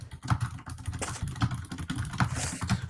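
Rapid, uneven keyboard typing on a computer during a podcast recording, a continuous clatter of keystrokes close to the microphone.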